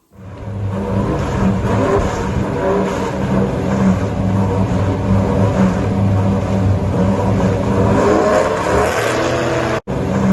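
A 1955 Chevrolet drag car with a 383 small-block V8 launching, a loud, sustained engine roar that holds steady across the run, close by and without talk, with a brief dropout near the end.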